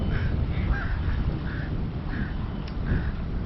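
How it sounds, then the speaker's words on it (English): Crows caw repeatedly somewhere off by the seaside, a string of short harsh calls spaced through the clip, fairly distant and riding over constant wind rumble. "Bunch of crows over there messing around."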